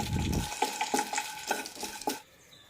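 Cardamom pods are stirred and dry-roasted in a hot pan for garam masala, giving a run of sharp scraping stirs roughly every half second over a soft sizzle, close and clear, ending abruptly.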